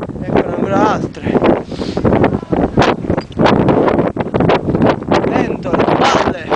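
Strong wind buffets the microphone at an illegal dump in the Chiancata dell'Acero area near Carpino, loud, gusty rumbling bursts that come and go while someone talks throughout.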